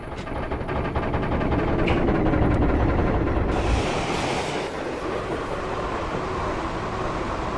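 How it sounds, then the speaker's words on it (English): A railtour train slowing down, heard close as a loud continuous rumble of wheels and carriages with clicking rail joints, the roar easing slightly over the span. "We catch the train once more at Tyford, where the crew starts to slow the train down."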